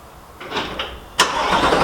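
A Chevrolet Corvette C8 V8 fires up by remote start inside a garage: a brief cranking whir, then a sharp loud catch into a steady, rumbling idle that fills the enclosed space.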